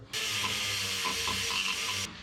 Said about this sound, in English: We should just be able to take that little carbide and bzzz, just a hair.